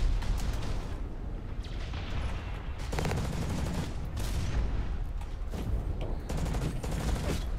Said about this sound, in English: Ah, shooting a wall. I meant to shoot.